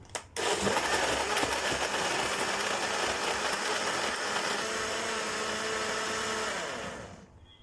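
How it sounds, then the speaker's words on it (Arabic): A blender whirs loudly and steadily for several seconds after a click, blades churning, then winds down and stops. "هناخد كل المكونات دي وهنضربها في الخلاط."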